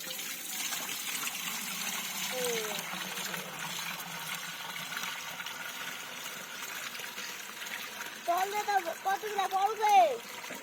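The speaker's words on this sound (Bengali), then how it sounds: "রসটি এখন আমরা একটি পরিষ্কার পাত্রে নেট দিয়ে ছেঁকে নেব" Date palm sap is strained through a net into a clean pot outdoors, giving a soft steady trickle and splatter, with a voice speaking over it and a few louder splashes near the end.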